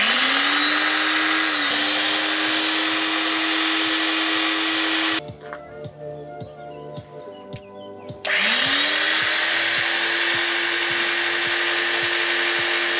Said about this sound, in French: Nous allons ensemble observer le mécanisme d'une ponceuse.